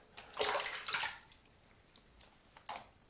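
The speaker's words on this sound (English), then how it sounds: "All right, let's rinse." Water splashes close by as shave soap is rinsed from the face, two short bursts of sloshing and dripping with a quieter splash near the end, no talking.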